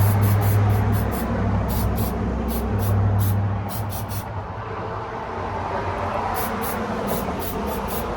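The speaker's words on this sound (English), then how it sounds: "So right now we're going to do our spray." A steady hiss of spray paint from an aerosol can touching up scratches on a Glock 19 holster, loud and close, with a low rumbling hum underneath and repeated high ticking.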